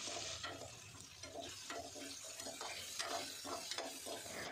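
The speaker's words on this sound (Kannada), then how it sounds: "ಈ ಥರ ಮೊದಲು ಎಣ್ಣೆ ಒಳಗೆ ಫ್ರೈ ಮಾಡ್ಕೋಬೇಕು ರೀ ಬಟಾಟಿನ." Potatoes fry in oil in a pan for a mixed vegetable bhaji, giving a quiet, continuous sizzle broken by regular scraping stirs of a spatula.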